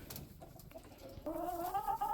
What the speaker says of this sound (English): you probably heard in the background all of the chickens jumping down from their roosts